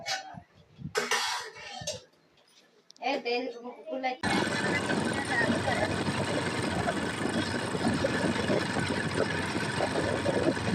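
A motorcycle on a bike ride: after some brief talk, a steady, continuous engine drone sets in with rushing wind noise, close and unbroken.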